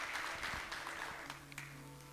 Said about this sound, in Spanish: Vamos a darle un aplauso al Señor Jesús.